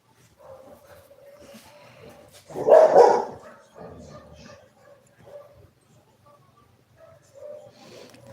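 A dog gives a burst of yips and barks at close range, one loud cluster in the middle and a few fainter sounds around it, with a soft tone and quiet background noise.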